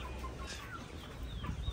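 Soft clucking from several 2 to 3 month old chickens, faint and intermittent over a low background hum.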